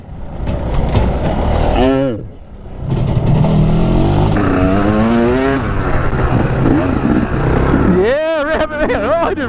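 A dirt bike rides a rocky, branch-strewn trail, with its engine revving and rising in pitch in repeated bursts, loud and close. Excited voices shout over it.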